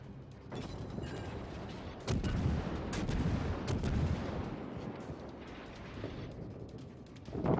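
Heavy naval gunfire from the cruiser Mogami's 155mm guns in World of Warships, a dense run of booming shots and blasts over a rumbling sea-battle background, loud and close with no voices.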